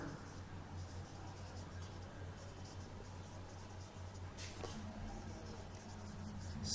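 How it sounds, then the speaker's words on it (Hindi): Marker or chalk writing on a board during a physics lesson, a steady scratchy stroke texture running throughout with a low room hum beneath, a brief sharper tap near the end. "तो इसमें वैज्ञानिकों के नाम लिखता हूं मैं"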